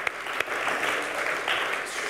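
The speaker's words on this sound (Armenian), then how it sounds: "եկեք ծափարենք" Brief burst of studio audience applause on a comedy show, dense clapping close and fairly loud, holding steady for about two seconds.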